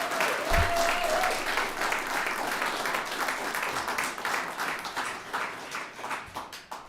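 An audience claps steadily for poetry recitation competitors at a state contest, a dense, sustained round of applause that thins and becomes more scattered toward the end.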